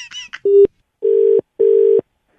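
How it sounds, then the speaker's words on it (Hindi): A telephone busy signal: three steady low beeps in an even on-off pattern, loud and close, after a brief voice at the start. "फिर आपका फोन बिजी है।"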